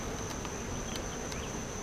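Honeybees at a hive, buzzing faintly and steadily throughout a short stretch, with a few brief individual bees passing close.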